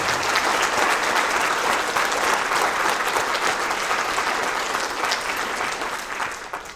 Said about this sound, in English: So I'd like to give another round of applause to Bruce